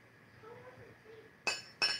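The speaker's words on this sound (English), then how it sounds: "So we lift up our glass and we say, Ashe," Two quick, bright clinks of glasses raised in a toast ring out near the end, following a quiet stretch with a faint voice.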